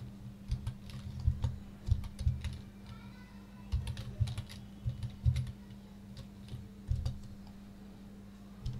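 Keys clatter on a computer keyboard while drawing in AutoCAD, coming in uneven bursts of quick taps separated by brief pauses, close and moderately loud over a steady low hum, with no speech.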